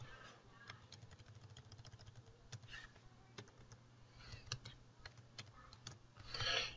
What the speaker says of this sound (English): Type in the word emphasized.